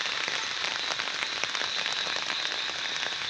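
Monsoon rain pours steadily outdoors in a village beside flooded fields, a dense, even hiss of drops on surfaces with scattered sharper patters, close and constant.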